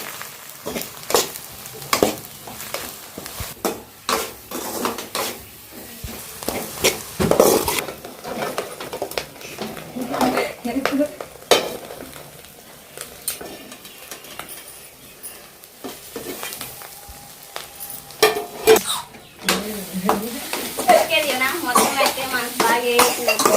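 Chili powder, turmeric and other ground spices being fried and stirred in a pan, with repeated scraping and utensil clatter against the metal, faint sizzling beneath, and occasional brief voice sounds nearby.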